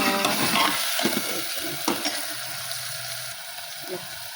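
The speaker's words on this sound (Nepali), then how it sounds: "यहाँ मेरो प्याज पनि हालिसक्यो साथीहरू। अब यसलाई मजाले ब्राउन हुने गरेर भुटेर" Onions browning in a pan of oil for a Nepali-style fish curry, giving a steady close sizzle and fry with a few stirring scrapes and clinks, and no talking.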